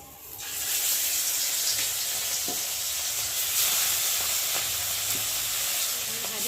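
Fish pieces fry in hot oil in a kadai, giving a steady close sizzle and hiss with small pops and crackles that keep going throughout.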